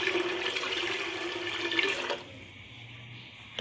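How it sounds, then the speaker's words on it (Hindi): Water runs steadily into a pressure cooker holding washed lentils, a close, hissing pour that stops abruptly partway through, leaving a quiet low hum. "इसमें शामिल करूँगी पानी"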